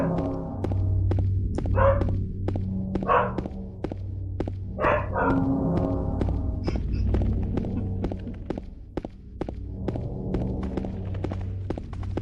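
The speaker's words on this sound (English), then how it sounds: "If you guys can hear that, that's one of our dogs. The only one that knows how to bark." A pet dog barks several times indoors, the short sharp barks separated by pauses and set over a low steady hum, with scattered thumps and soft clicks around them.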